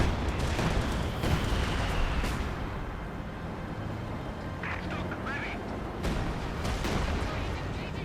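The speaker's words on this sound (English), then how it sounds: "Mortar fire raining down all over the place. Howitzer firing in as well." Mortar and howitzer artillery fire in a Company of Heroes 2 match, a dense dull rumble of distant booms and blasts running throughout, with a sharper burst near the start and another near the end.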